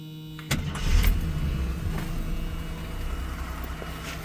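A 1981 AMC Spirit DL with its 258 engine cranks and catches at about half a second, then settles into a steady, slightly rough idle close by after sitting unused for a while, with no talking.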